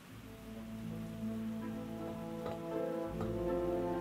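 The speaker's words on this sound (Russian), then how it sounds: "Дождь. Вечно тут дождь." Rain in the video game Forgotton Anne, a steady soft patter under a sustained tonal music bed, quiet and continuous with no talking.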